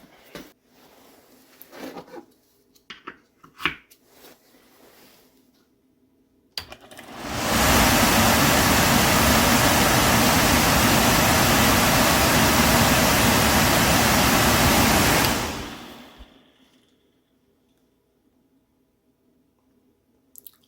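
An old York furnace motor, repaired so the rotor spins freely without touching the stator. A few clicks and handling knocks lead into a loud, steady whirring roar that runs about eight seconds, then winds down to quiet.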